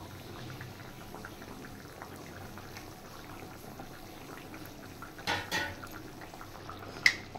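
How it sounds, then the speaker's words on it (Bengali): Parshe fish curry simmers in a pot with a soft, steady bubbling, joined by a couple of brief utensil clinks near the end, with no speech. "পার্শে মাছের ঝোল প্রায় হয়েই গেছে, আর একটু ফুটিয়ে নামিয়ে দেব"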